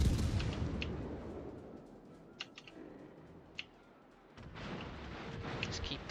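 Guns of the Hindenburg cruiser fire in World of Warships with muffled, rumbling booms at the start and again later. Sharp clicks sit in between, and someone talks over the game sounds.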